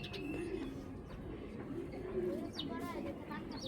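Pigeons cooing at a seller's pen of high-quality high-flyer birds in Bangladesh, including silver Makra and Tota types: a steady, close, low rolling coo repeats throughout, with brief chirps and faint voices in the background.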